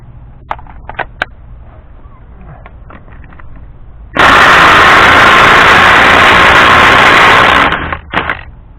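Ryobi P235 impact driver removing a lug nut: a loud, dense hammering rattle bursts in after a few scattered clicks and knocks, runs steadily for about three and a half seconds, then cuts off, followed by a couple of short clacks.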